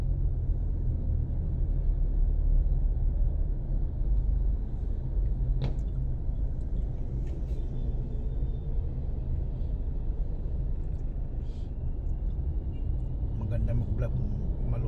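Heavy road traffic rumbles on C5 Road in Libis, a continuous low drone of engines with occasional brake hisses and sharp clicks, while someone talks over it.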